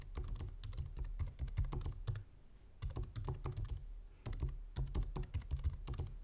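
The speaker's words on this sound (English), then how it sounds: "we can create an admin account for the disk station. And we're going to just type that in." Typing on a computer keyboard to create an admin account during setup of a Synology DiskStation DS213J: quiet, close bursts of rapid key clicks separated by short pauses.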